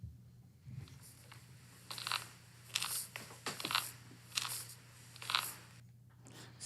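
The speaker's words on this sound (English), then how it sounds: "That is the phone being held up to my knee as I'm walking up the stairs." A knee cracking while climbing stairs, captured by a phone held against the knee: a series of gritty crunching pops in irregular bursts, close and fairly quiet, with no voices.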